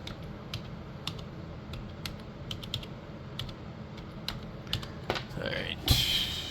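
Keys tapped on a computer keyboard while entering setup details during a Neptune Linux installation, with irregular bursts of clicks throughout and a denser flurry near the end, under a steady room hum.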